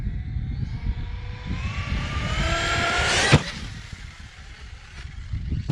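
A Traxxas Sledge RC monster truck races along with a high whining motor that climbs in pitch as it launches off a ramp, ending in a sharp landing thud before the motor noise fades and picks up again.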